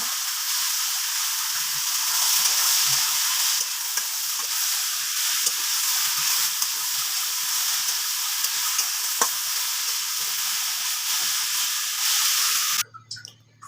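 Leafy greens frying in oil with garlic, dried chili, boiled onion and green chili, a steady loud sizzle and hiss with occasional stirring scrapes, cutting off at the end.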